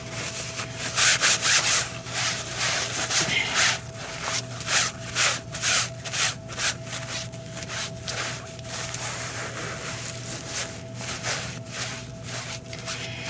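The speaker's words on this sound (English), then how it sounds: "I'll wipe off this mat here." A mat on a table is wiped down in close, steady rubbing strokes, the scrubbing rhythm rising and falling under a constant low hum of the room.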